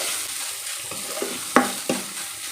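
Ginger garlic paste sautéing in a hot pan, a soft steady sizzle with a few sharp scraping stirs near the end.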